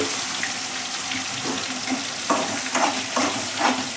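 Ground tomato and small-onion paste poured into chicken frying for curry, a loud steady sizzle broken by a few splashy bursts and stirring scrapes near the end, close and alone.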